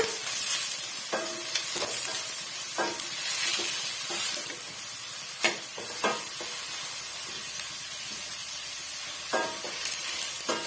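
Green chillies and onion sauté in oil over a medium flame for a potato gravy, a soft continuous sizzle broken by periodic scraping stirs of a spoon against the pan, fairly quiet and close.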